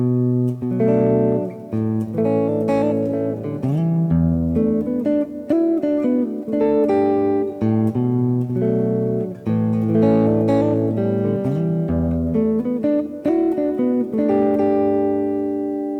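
A guitar plays a song intro and verse, strummed chords ringing steadily with picked notes between, loud and close with no voice.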